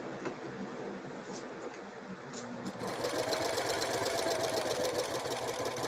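A sewing machine runs steadily while chain piecing quilt pieces, giving a continuous rapid mechanical whir that grows louder and busier partway through, close up with no pauses.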